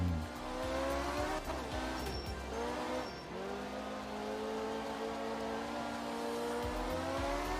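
A rally car in the Art of Rally video game drifting with heavy oversteer on a touge mountain track, its engine droning and shifting pitch steadily with tire squeal and gravel noise, loud and continuous.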